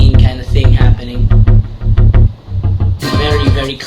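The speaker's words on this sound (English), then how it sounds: "for the verses, we actually used a synth bass" A deep synth bass pumps under a club-style track with sidechain ducking, the low end swelling and dipping in a steady rhythm beneath percussive hits, loud and dense, with a brighter section near the end.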